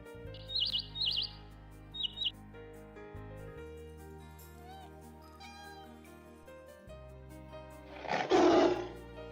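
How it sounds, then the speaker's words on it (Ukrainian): Bird chirps come first, then a cat meows, then a loud lion roar, all over a soft background of sustained music. "ми з вами почули спів пташки, нявчання кішки, рик лева"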